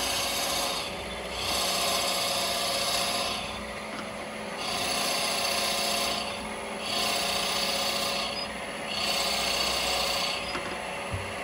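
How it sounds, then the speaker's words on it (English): A drill bores slowly down the centre of a wooden workpiece spinning on a woodturning lathe, making a steady rasping, scraping grind that swells in about four repeated passes over a constant motor hum. "we're going to drill this"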